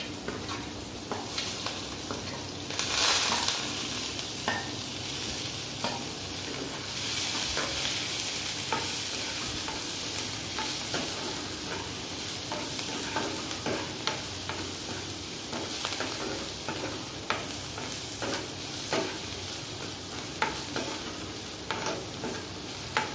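Onions sizzling in hot oil in a pan for dal tadka, a steady close frying hiss throughout, punctuated by repeated light taps and scrapes of a spoon stirring, with no talking.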